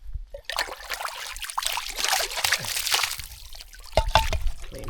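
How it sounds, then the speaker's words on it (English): Clean fresh water from a forest spring trickles and splashes steadily in woodland, close and continuous, with a brief louder slosh near the end. "See, you can see how the water is pouring up down there."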